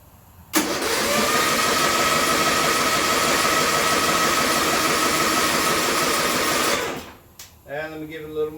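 A John Deere mud mower engine fires up after a year idle and runs at a loud, steady buzzing idle for several seconds, then cuts off, followed by a voice.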